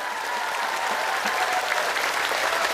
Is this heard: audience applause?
yes